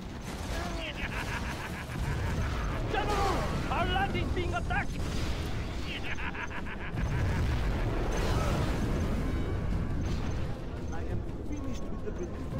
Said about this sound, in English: That was a bigger explosion than I thought it was gonna be.